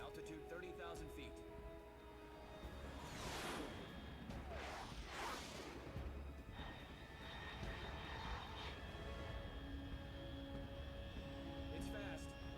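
A fast high-altitude aircraft in the Metal Gear Solid 3 video game, a steady loud jet engine roar with several whooshing surges, under a radio-style voice talking.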